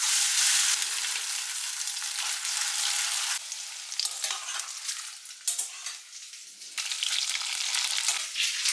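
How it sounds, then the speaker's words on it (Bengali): Marinated boneless chicken cubes coated in cornflour, a little egg, black pepper and salt fry in hot oil, a loud steady sizzle that shifts in intensity as pieces are moved, with no one talking. "ম্যারিনেট করে রেখেছিলাম কর্নফ্লাওয়ার, অল্প একটু ডিম, গোলমরিচের গুঁড়ো আর নুন দিয়ে। এবার এটা ফ্রাই করে নিচ্ছি।"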